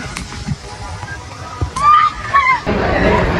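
Water sloshing and splashing onto people at Sunway Lagoon water park, a surging splash that grows toward the end, with voices and a brief shout in the busy background.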